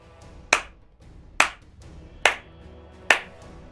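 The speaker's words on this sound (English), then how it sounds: "Slow clapping." Four slow, deliberate hand claps spaced evenly almost a second apart, each sharp and close with a short decay, over a quiet background and no talking.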